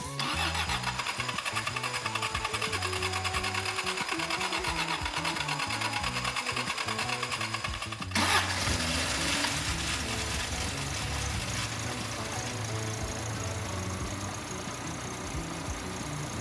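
A Toyota Celica car engine, being rebuilt as a kaido racer, idles steadily after starting, a mid-pitched motor hum that grows louder and brighter halfway through and then runs on smoothly.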